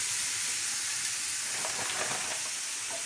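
Vegetables sizzling on a hot grill while being cooked for feta cheese noodles, a steady bright hiss with faint crackles, close and continuous, no talking.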